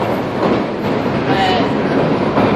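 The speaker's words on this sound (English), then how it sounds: "This is the perfect train to catch." A New York City M subway train rumbles steadily with a loud, continuous roar and faint rattling, heard up close throughout as if from on board or right beside the tracks.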